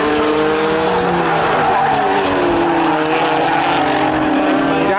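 BTCC touring cars racing at Thruxton circuit: loud, continuous engine roar with shifting pitches as several cars pass close by, tyre noise mixed in, steady throughout with no gaps.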